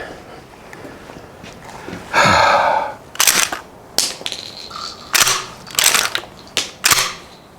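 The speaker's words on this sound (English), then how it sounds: "Yeah, he ejects him out." A Beretta 1301 Tactical shotgun is cycled by hand, giving a series of sharp metallic clacks and snaps, roughly six spaced bursts, close and loud against a quiet outdoor background.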